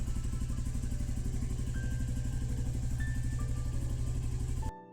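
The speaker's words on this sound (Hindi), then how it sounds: "यहाँ पे पार्किंग से निकाली जा रही हैं बाइक्स" Motorbikes being taken out of a parking area near Kedarnath, with a steady close engine drone and idling rumble that runs continuously and cuts off abruptly near the end.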